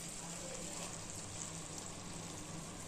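Steady sizzling and frying hiss as ground masala is poured into a hot pan for crab gravy, fairly quiet and continuous with no talking.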